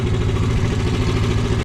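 A smoking boat engine runs at sea in choppy waves. It makes a loud, steady, close mid-low drone that continues throughout and then cuts off abruptly at the end.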